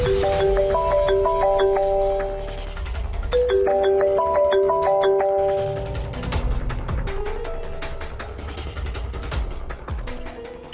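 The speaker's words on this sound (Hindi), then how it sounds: "किसका फोन आ रहा है सुबह सुबह?" A melodic phone ringtone plays in repeating bright tonal phrases over a busy musical backing, moderately loud and continuous.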